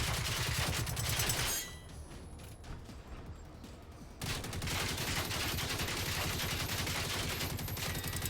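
Shotgun fire in the video game Generation Zero, loud close blasts in a dense burst, then a quieter stretch of mechanical handling, followed by another heavy run of rapid, cracking shots.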